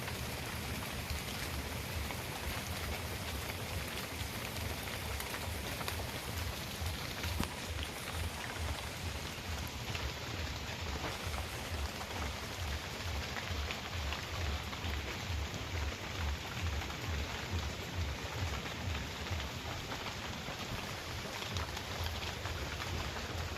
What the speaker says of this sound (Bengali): টিপ টিপ টিপ টিপ বৃষ্টি পড়তে আছে